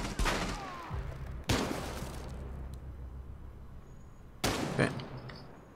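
Shotgun blasts in the game Rainbow Six Siege: three sharp, loud reports spaced a few seconds apart, each with a short rumbling tail.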